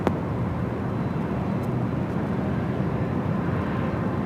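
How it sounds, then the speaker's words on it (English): A Hawaiian Airlines heavy jet arriving at LAX from Honolulu, heard as a steady, loud broadband roar that holds throughout with no voices. "this flight coming in from Honolulu, as well as our next heavy arrival, which is Hawaiian Flight 10"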